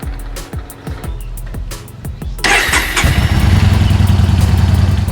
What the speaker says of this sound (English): So step one, I'm gonna warm up the bike.